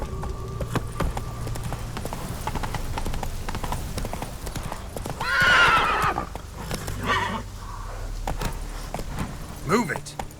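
In The Witcher 3 video game, a horse's hooves clip-clop at a steady pace, a loud whinny breaks out midway and the hoofbeats go on after it, with a voice heard briefly.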